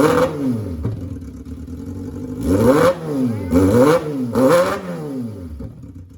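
Hybrid cross kart with both its electric motor and combustion engine running together, revving up and down in three or four loud, close surges with rising and falling harmonic whine, no talking.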